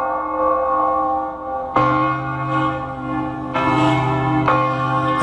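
Church bells peal at a memorial for John F. Kennedy, with loud resonant strikes layering over one another and ringing on continuously, with no voices over them.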